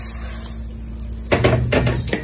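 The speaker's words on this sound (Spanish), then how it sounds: "Es un momento que le voy a agregar el arroz." Rice poured into a pot of oil heated for about three minutes, giving a sudden burst of sizzling and rattling clatter partway through, then a few more crackling surges, close and loud with no talking.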